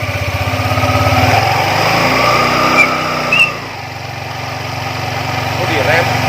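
Yamaha Lexi scooter with its CVT being serviced, small engine running close and loud, revving up then easing down to a lower idle, with talk over it.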